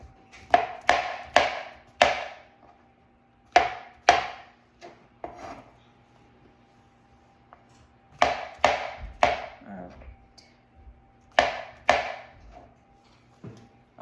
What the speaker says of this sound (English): So on a good size baby Bella, it's about 4 slices, and then cut those 4 in half.